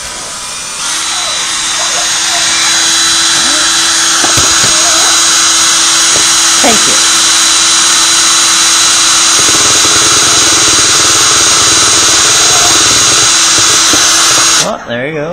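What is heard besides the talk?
drill boring into ostrich egg shell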